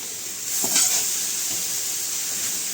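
Grated coconut is stirred into sautéed radish in a pan, giving a soft sizzle and hiss with a few faint scraping stirs, quiet and close, and no one speaks.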